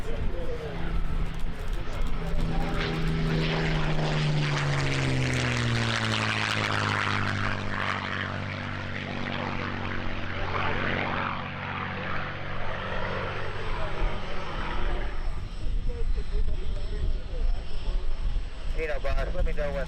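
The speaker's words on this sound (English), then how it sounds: "you can hear the sound of that wonderful Rolls-Royce Merlin engine" A Spitfire's Rolls-Royce Merlin propeller engine roars steadily as the plane flies past at the EAA AirVenture Oshkosh 2018 airshow, its pitch sliding downward before settling into a sustained drone that fades slightly.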